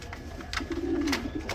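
A pigeon gives a short, soft, throaty coo, one low drawn-out call heard up close against faint background noise.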